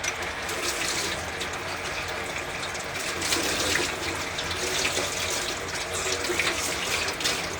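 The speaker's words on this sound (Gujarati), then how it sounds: "હવે પીવાના પાણીએ ધોઈ નાખશું એક વાર." Drinking water runs from a tap into a kitchen sink as something is rinsed, a steady splashing flow that swells and dips slightly throughout, close by.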